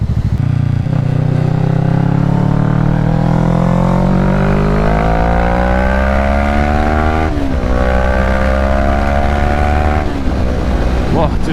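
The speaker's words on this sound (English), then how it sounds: "I can still hear the exhaust very well" Motorcycle exhaust while riding, a steady engine drone that climbs gradually in pitch as speed builds, with a brief dip and recovery near the end, loud and close with almost no wind noise.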